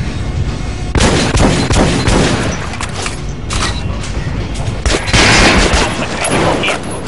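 Gunfire in the video game Metro Last Light, with loud shots crackling in dense, overlapping bursts over a steady, busy game soundscape.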